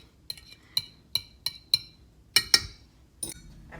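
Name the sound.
stirring egg in a container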